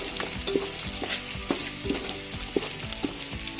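Rice mixed with peri-peri masala and dried lemon is stirred in a pot, with a constant sizzle under repeated spoon scrapes and clinks against the metal, close and fairly loud, no talking.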